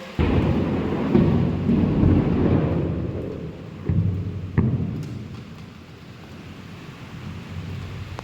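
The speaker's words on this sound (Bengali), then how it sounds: "আল্লাহ বিদ্যুৎ চমকাচ্ছে" Thunderstorm with strong wind and rain after intense heat: a loud, continuous low rumble of thunder rolls throughout, with a couple of sharper cracks near the middle before it eases slightly toward the end.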